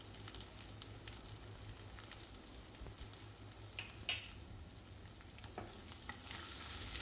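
Sardines (tema fish) preserved in brine and oil frying in a pan after salt and turmeric go in, a quiet steady sizzle with occasional stirring scrapes and a single sharper clink, no voices.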